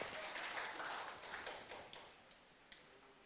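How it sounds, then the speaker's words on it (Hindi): Applause from an audience in a lecture hall: a burst of clapping that thins out quickly, ending in a few scattered, separate claps. "ऐसा नहीं है कि सिर्फ आपके लिए तालियां बजती"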